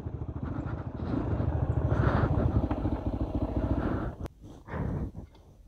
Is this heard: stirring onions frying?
no